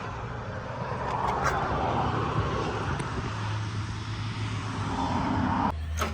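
A car carrying departing visitors pulls away and fades, a broad low engine and road rumble that swells through the middle and then drops off sharply near the end, heard from a moderate distance with some wind.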